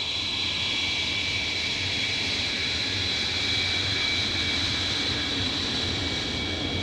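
A MiG-23MF jet fighter taking off, a steady roaring jet engine with a high whine, loud and constant throughout.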